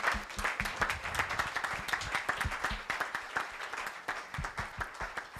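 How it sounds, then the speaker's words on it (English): A seminar crowd gives a standing round of applause, rapid overlapping hand claps with sharp individual slaps near the front, sustained and fairly loud throughout. "can everyone get up and give Mayowa Adegoke a round of applause?"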